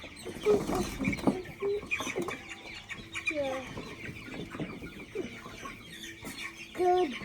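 Young chicks out on pasture cluck and peep in short, scattered bursts close by, with a person speaking briefly among them.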